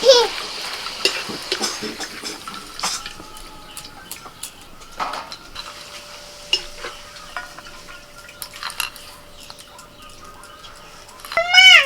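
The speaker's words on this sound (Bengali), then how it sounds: "প্রথমে পাঁপড় ভেজে নেব" Papad frying in hot oil in a home kitchen, a steady soft sizzle with occasional crackles and stirring, with bird chirps in the background.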